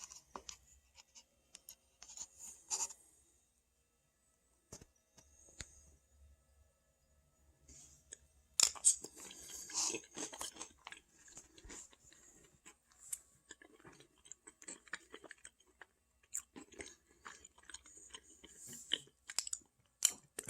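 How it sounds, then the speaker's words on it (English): Close-up chewing of a handful of cinnamon-flavored Jelly Belly jelly beans from a plastic bag: quiet, intermittent sticky mouth clicks and soft squishes, sparse at first, then busier bursts of chewing, with no talking. "A handful from a plastic bag of cinnamon flavored Jelly Belly jelly beans"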